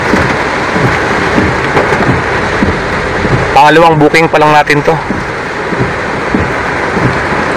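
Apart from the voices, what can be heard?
heavy rain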